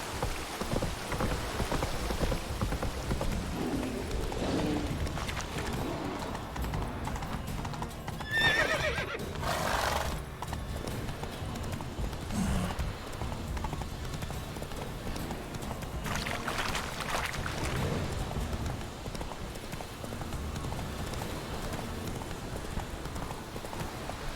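Hooves of a horse galloping in The Witcher: Wild Hunt video game, a steady rhythmic clip-clop across the whole stretch, joined by rain pattering, a brief whinny and occasional game effects.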